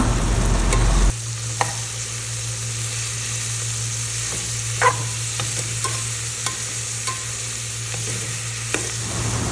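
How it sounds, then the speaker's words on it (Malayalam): Sliced onions hit a pan of green chillies frying in oil, a steady close sizzle with scattered clinks and scrapes of a spoon stirring them around. "നമുക്ക് അരിഞ്ഞു വെച്ചിരിക്കുന്ന സവാള ആഡ് ചെയ്ത് കൊടുക്കാം"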